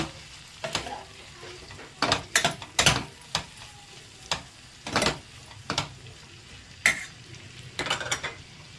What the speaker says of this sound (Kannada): ಎಲ್ಲ ಒಟ್ಟಿಗೆ ಸ್ವಲ್ಪ ಫ್ರೈ ಆಗುತ್ತೆ